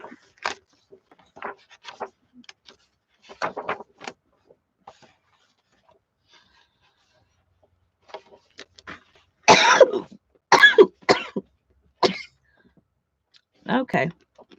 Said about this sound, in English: Coughing and sneezing.